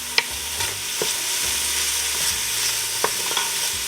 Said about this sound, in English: I want the bacon fat to melt down and the other ingredients to soften